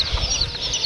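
Chickens at a village poultry yard, rooster and hens clucking in close, busy bursts with no talk.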